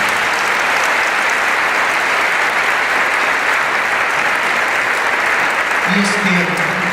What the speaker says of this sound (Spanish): Denle un aplauso maravilloso al Señor.